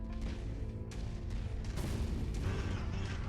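In the mech combat game MechWarrior 5, a destroyed target explodes with a series of heavy, rumbling booms and crackling bursts under dense continuous battle noise.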